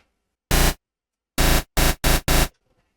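Synthesized clap made from filtered pink noise: five short broadband noise bursts, one alone followed by a tight group of four, loud and dry with silence between.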